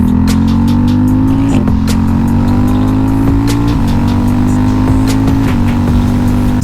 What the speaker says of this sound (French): Shifter déjà, je suis en première, j'embraye pas, je passe la 2.